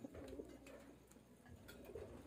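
Racing pigeons crated in four transport crates for an invitational race, cooing softly and steadily in a low murmuring chorus, fairly faint and with no talk over it.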